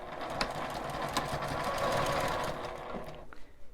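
A sewing machine stitches through a layer of urethane foam with a 1 cm seam allowance, running as a steady, close mechanical whir for most of the stretch and then slowing and stopping near the end.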